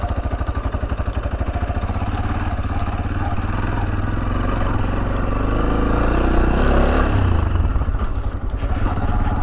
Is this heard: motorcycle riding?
yes